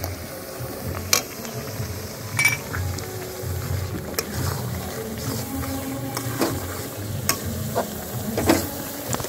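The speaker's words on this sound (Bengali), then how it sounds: "এবার টমেটো বাটা দিয়ে দিচ্ছি।" Tomato paste added to a hot frying pan sizzles steadily while Bengali-style paneer tikka masala cooks in a village kitchen, with a spoon stirring and clinking against the pan at intervals.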